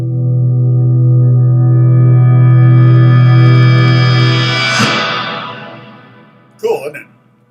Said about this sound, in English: the reverse guitar, it sounds like this.